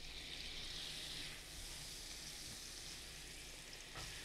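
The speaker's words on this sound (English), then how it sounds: "We're going to put our onions into the saute pan and cook them till they're caramelized." Onions fry in a sauté pan of olive oil and butter, giving a steady, close, hissing sizzle that runs without a break, with a slight dip partway through and no talking over it.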